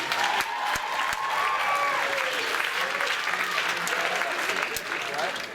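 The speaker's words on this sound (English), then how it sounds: "Let's give them a round of applause." Audience applause for student readers at a school writers' week event, a soft, steady patter of many hands under a faint voice or two, with a few sharper claps standing out.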